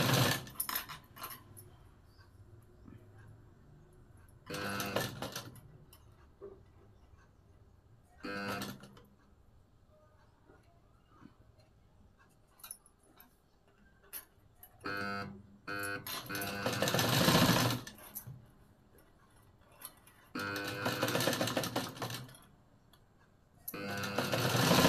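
A sewing machine stitches a half-inch seam on a double-katori blouse in several short, loud whirring bursts, each a few seconds long, separated by quiet pauses with faint handling sounds.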